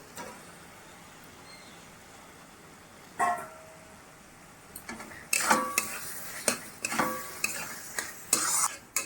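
Potatoes tossed into an onion-tomato masala frying in a pan for a Bengali chital fish curry: a quiet low sizzle at first, then a run of loud, rhythmic spoon scrapes and clanks over the frying.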